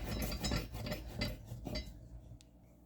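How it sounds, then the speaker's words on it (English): A small paring knife is drawn across a sharpener in a home kitchen, a few quick metallic scraping strokes close by that fade out after about two seconds, with no talking. "Sharpening another knife. It's a little paring knife."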